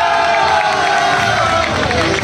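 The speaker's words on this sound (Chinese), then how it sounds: "再次掌声鼓励。" A crowd cheers and applauds at the 2022 Mazu enthronement and procession ceremony at Fu Tian Temple in Bade, Taoyuan, a loud, dense and continuous wash of clapping and voices.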